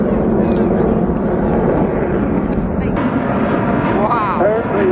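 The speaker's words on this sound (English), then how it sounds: "Totally awesome aircraft" A military jet putting on a display at the Eastbourne Airborne 2025 air show, a loud, continuous roaring rumble that fills the whole stretch. A voice speaks over it.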